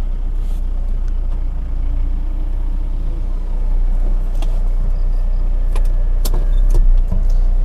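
Electric winch hauling an off-road fire-support rescue vehicle without wheel traction, a steady close motor whine under a low engine rumble, with a few clanks and ticks.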